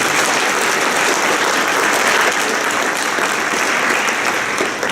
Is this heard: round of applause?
yes